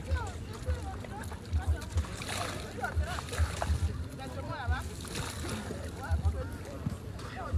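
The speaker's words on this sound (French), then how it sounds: "Vous la prenez, vous la mouillez dans de l'eau et vous pressez." A wet towel is dipped into water and wrung out, giving steady sloshing and splashing with soft low thumps, close by while people talk throughout.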